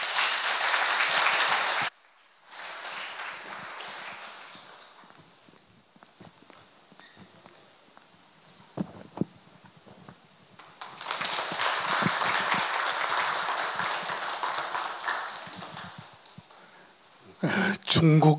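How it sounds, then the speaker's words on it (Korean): An audience at an evening concert of poetry and music in Daegu claps to welcome poets to the stage. One burst comes at the start, a quieter stretch with footsteps follows, then a longer round of applause and a final loud flare. "박수로 맞아주십시오."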